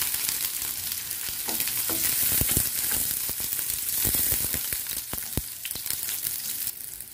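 Chopped onion fries with smashed ginger and garlic for squid adobo, a loud, steady sizzle of hot oil broken by sharp clacks of stirring in the pan.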